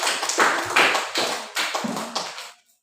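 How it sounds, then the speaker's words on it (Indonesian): Group 3 in a classroom gets a short round of clapping that comes in several uneven bursts of taps, close and fairly loud, then dies away at the end. "tepuk tangan buat kelompok 3"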